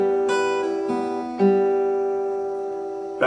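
Electric guitar playing a slow, drawn-out phrase from a song, with a few sustained notes plucked one after another and left ringing into a long fading tone, clear and alone.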